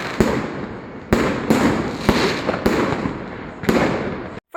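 Loud bursts of New Year's fireworks and firecrackers, sharp cracking blasts repeating every second or so with crackling between them, close and intense.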